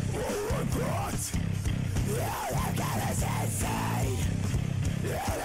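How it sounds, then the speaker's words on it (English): An old home recording of a man doing harsh metal screaming, rough distorted vocal bursts with rising and falling pitch, loud and close, repeated several times across a few seconds. "I have some old recordings of me screaming which sound awful, and I'm gonna play a clip of one of them for you right now"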